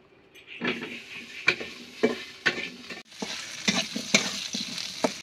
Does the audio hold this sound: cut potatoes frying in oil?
yes